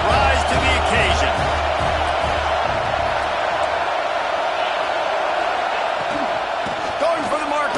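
College football stadium crowd roaring on fourth down: a loud, sustained wash of cheering and noise filling the air, with a commentator's voice talking over it throughout.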